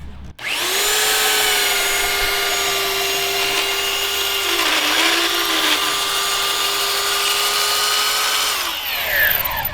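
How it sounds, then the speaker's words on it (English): A belt sander with 100-grit belt runs across an aluminum end panel, a steady high whine with a brief dip in pitch midway as pressure changes, starting and stopping abruptly, no talking. "100 is pretty good on a belt sander for these."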